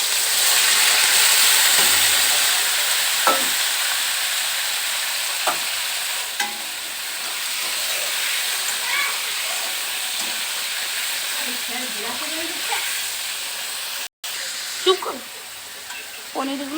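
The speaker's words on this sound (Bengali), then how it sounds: "পনিরগুলো ভেজে নিচ্ছি।" Salted paneer cubes frying in a pan, a steady close sizzle and hiss with occasional stirring clicks and spatula scrapes, fading slightly in the second half with a brief dropout.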